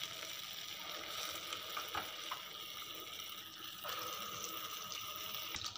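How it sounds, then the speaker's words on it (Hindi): Urad lentil vadas fry in hot ghee with a continuous close, crackling sizzle, dotted with small pops and occasional soft clinks of stirring, with no voices. "मैंने बड़े फ्राई करना स्टार्ट कर दिए।"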